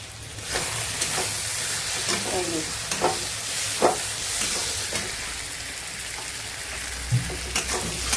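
Fish oil curry (macher teler chorchori) with coriander leaves and tomato stirred in a pan, a steady close sizzle running under periodic scraping strokes of the spoon, with no talk.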